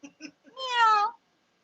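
A single drawn-out cat meow rises and falls after two short soft sounds, close and clear against a silent background.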